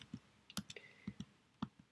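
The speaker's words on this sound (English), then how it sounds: "So I'm going to type out our website here." Keystrokes on a computer keyboard: a quick, irregular run of sharp clicks and taps, fairly close and moderately loud, with no talking.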